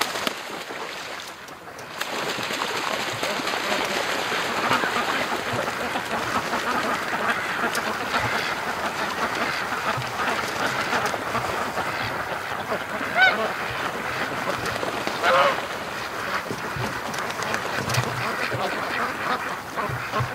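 A flock of ducks on a lake gives a continuous, busy chorus of quacks at moderate distance, with a few louder calls rising out of the steady background.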